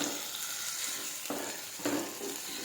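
Curry leaves frying in oil for a red chilli chicken curry, a continuous hissing sizzle with two distinct stirring strokes that briefly thicken the sound, close and alone without speech.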